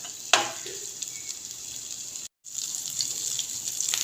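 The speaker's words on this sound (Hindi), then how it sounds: "इसको हमने फ्राई करना है लहसुन की स्मेल ख़त्म होने तक।" Ginger garlic paste sizzles in hot oil in a pan, a steady close hiss with a sharp crackle near the start and a brief dropout midway.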